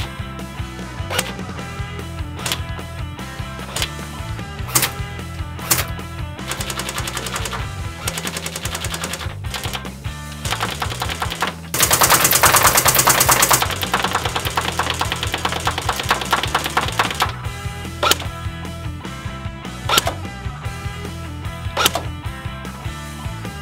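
A Jing Gong Tactical AUG airsoft electric rifle firing BBs on a shooting range, with rapid full-auto bursts and single shots cracking in close, loud repeated rhythms, plus one dense sustained burst partway through; no voices.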